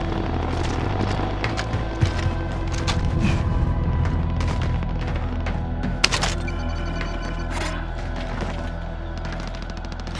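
Video game gunfire crackles as a dense, continuous stream of shots and heavy booms, with sharper loud cracks near two and six seconds, with no voices over it.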